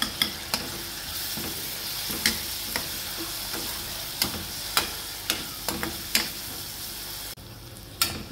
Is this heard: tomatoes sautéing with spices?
yes